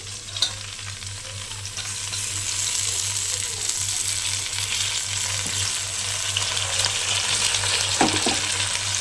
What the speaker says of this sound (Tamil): புதினா வதங்கின உடனே நம்ம வந்துட்டு வெங்காயத்தை சேர்த்துக்கலாம்